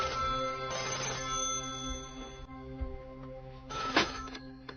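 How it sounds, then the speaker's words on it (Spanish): An old-style telephone rings in bursts from a Spanish radio drama, a steady electronic trill with a loud ring near the end, alone without speech. "Alguien llama por teléfono."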